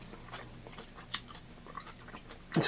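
Crunchy pickled vegetables with onion and peppercorns being bitten and chewed up close, a few soft crunching bites spread out over quiet moments, ending in a sharp loud burst.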